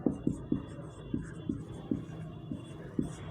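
Chalk or marker writing during a class 9 math lesson on number systems, a run of about eight quick rhythmic taps and scratches heard close and clear, with a faint hiss behind and no talking.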